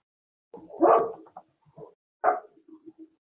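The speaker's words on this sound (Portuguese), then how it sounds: "o meu microfone está aberto, são meus cachorros aqui, eu não tinha percebido" Pet dogs barking at home, a couple of sharp close barks followed by softer yips and whimpers in an otherwise quiet room.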